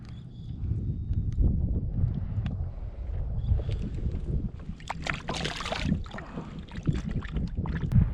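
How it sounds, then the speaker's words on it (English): Wind gusting across a small fishing boat on backwater, a steady low rumble and buffeting against the microphone with some splashes and knocks of the hull, no talking. "you can hear that wind picking up"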